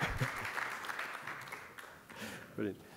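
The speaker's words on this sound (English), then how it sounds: "Keep the applause going." A conference audience at a data venture challenge applauds as a presenter is welcomed to the stage. The clapping is faint and distant, and a voice talks over it.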